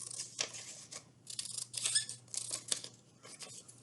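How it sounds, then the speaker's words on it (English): Scissors cutting along lines through paper strips for a kite tail, a quick series of close, crisp snipping and slicing strokes, quiet and alone. "we're just going to cut along the lines and tape these together to form a nice tail"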